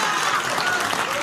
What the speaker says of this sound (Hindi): जो बच्चे ताली बजा रहे हैं